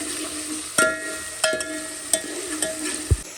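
Onions fry with salt in a pan of pigeon peas, a soft steady sizzle broken by several sharp scraping clinks of a spoon against the pan at irregular intervals, close and without talk.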